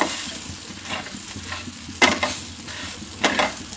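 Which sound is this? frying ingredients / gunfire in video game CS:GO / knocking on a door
frying ingredients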